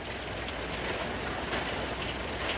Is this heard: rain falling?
yes